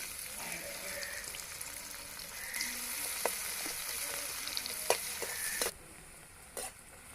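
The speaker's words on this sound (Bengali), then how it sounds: "এই তেলের মধ্যেই আমি আরেকটু তেল দিয়ে দেবো পেঁয়াজ কুচি" Chopped onion frying in extra oil for a pulao, a close steady sizzle with occasional stirring clicks that drops away sharply near the end, no voices.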